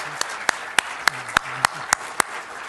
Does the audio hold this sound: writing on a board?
no